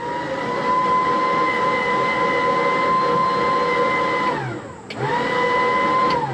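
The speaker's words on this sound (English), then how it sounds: "blower that absolutely rips" An engine-compartment blower on a 1986 Shamrock 20 boat runs loud and steady with a strong motor whine, then spins down briefly near the end and quickly winds back up to full speed.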